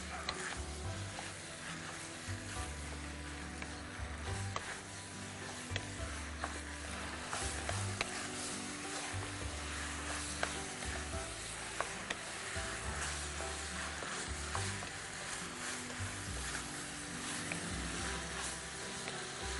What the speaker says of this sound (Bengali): আমি পাস্তাকে এই চিকেনের মিশ্রণের সাথে ভালো করে মিশিয়ে 3 থেকে 4 মিনিটের মতো এইভাবে আমি ভাজবো।